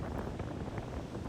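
Wind blows hard across a beach on Singer Island on a very windy day, a dense broadband roar buffeting the microphone with faint surf mixed in, steady and close throughout.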